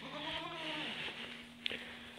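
Farm goats kept beside a chicken tractor let out a wavering bleat at close range over steady outdoor background noise, followed by a brief knock.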